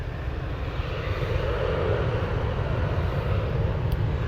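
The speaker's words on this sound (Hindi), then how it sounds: "इंजन की आवाज़ जो है ना, जिसका कोई मुकाबला नहीं है।" An airplane engine roars in a steady, dense drone throughout, heard from inside or nearby with no speech over it.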